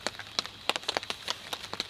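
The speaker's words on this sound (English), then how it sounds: "But the sound of the rain is nice." Rain in a pine forest: raindrops patter in quick, irregular taps, close and soft, with a steady light hiss of rain behind them.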